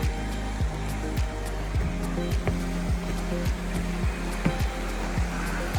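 Creek water running over mossy rocks in a canyon makes a steady broadband rush, with a regular clicking and thumping pattern repeating underneath throughout and no speech.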